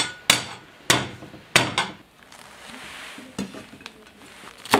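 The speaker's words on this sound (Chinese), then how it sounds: "这个生姜需要把它切碎。" Knife chopping ginger finely, close and crisp: a few loud, separated chops, then a quieter stretch of light clatter and a couple of sharper strikes.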